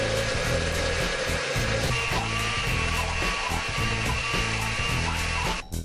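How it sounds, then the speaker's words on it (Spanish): A blender runs continuously, loud and close, mixing lemon juice into cream for an easy no-bake dessert, with a steady whirring drone that cuts off just before the end. "vamos a encender nuestra licuadora y por este huequito le vamos a echar"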